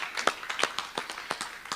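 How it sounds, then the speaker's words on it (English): An audience claps for the session chairs at an AFRINIC21 meeting, a short burst of scattered, moderately close hand claps with an irregular rhythm. "I think also we should give the chairs a round of applause for handling this"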